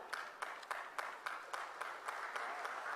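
Faint, distant audience applause at a live public program, a steady soft patter of many hands with rhythmic clapping peaks roughly every quarter second.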